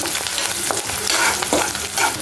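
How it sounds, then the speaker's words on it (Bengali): Spice paste frying and being stirred in a pan with dried red chillies, bay leaves and cardamom, a steady close sizzle with scraping stir strokes throughout, no talking. "ভালো করে পেস্টটা ভেজে নেব এখন"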